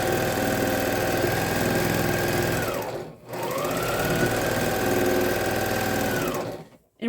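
A sewing machine stitches quilt fabric pieces with a quarter-inch seam: a steady, close mechanical whir that pauses briefly partway through, then runs again before stopping.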